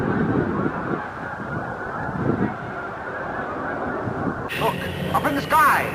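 Geese honk overhead outdoors, repeated calls carried on wind noise and rising sharply near the end as the flock passes close, with a person talking underneath.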